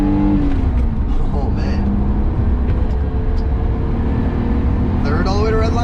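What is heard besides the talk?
1982 BMW 633CSi E24 engine accelerating to redline through gears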